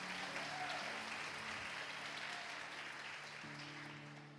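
Church congregation applauding, a soft, steady patter of many hands heard from a distance in a reverberant hall, faint and fading slightly toward the end.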